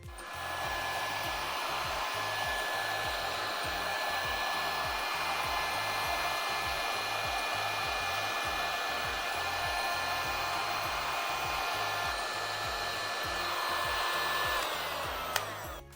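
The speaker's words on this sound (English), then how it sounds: "next step is to either heat gun or blow dry it to get those little wave effects. I have my heat gun." A heat gun running on its low setting over poured eco epoxy on a cheeseboard gives a steady, close blowing whir that holds unbroken for the whole stretch, with no talk.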